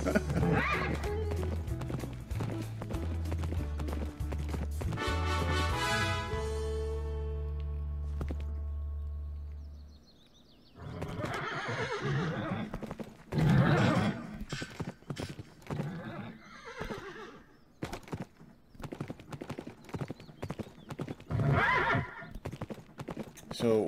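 A Minecraft horse clip-clops and neighs through game music for about ten seconds, then after a brief lull more hoof clatter and whinnies return with talk mixed in.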